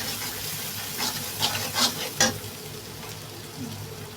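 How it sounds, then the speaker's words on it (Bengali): An egg stirred into onion and garlic frying in a pan, a soft steady sizzle broken by a few sharp scraping stirs close by, with no talking. "পেঁয়াজ রসুনের সাথে ডিমটাকে ভালোভাবে মাখিয়ে নেব,"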